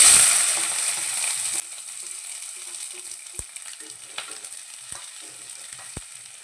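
Chopped onions and cumin sizzle in hot oil in a pan, a loud bright hiss that drops to a steadier frying crackle, with a few sharp clicks of stirring, no talk.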